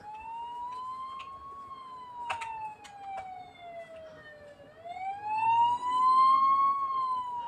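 A siren wails steadily, its pitch slowly falling and then sweeping back up, with no talking over it.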